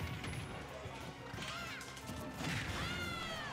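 A smash attack lands in a Super Smash Bros. match: a sharp crash-like hit with whooshing swipes, set within busy game noise, crowd sound and commentary talk.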